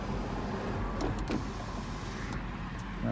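BMW X5 M sunroof running on its electric motor, a quiet steady motor whir inside the car with a few faint clicks and knocks, no talk.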